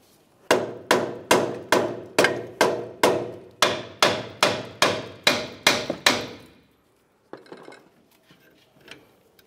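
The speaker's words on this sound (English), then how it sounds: "I'll just give the control arm a couple bonks to cause some vibration" About a dozen ringing hammer blows strike the upper control arm of a 2004-2015 Nissan Titan in a steady, evenly spaced rhythm, close and loud, followed by a few faint clanks of tools.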